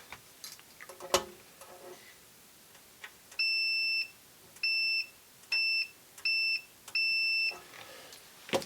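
An Innova 3320 auto-ranging multimeter gives five short electronic continuity-test beeps in an uneven sequence, clear and close against a quiet background.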